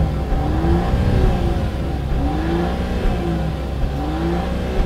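A Mercedes S-Class with a 3-litre straight-six engine is revved repeatedly against a soft limiter, giving a smooth, whirring, fairly muted drone with gentle rising and falling pitch sweeps and a low steady rumble underneath.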